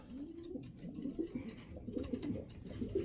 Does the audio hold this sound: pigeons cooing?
yes